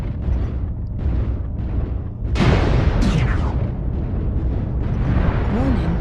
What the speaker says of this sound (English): I'm taking long range ballistic fire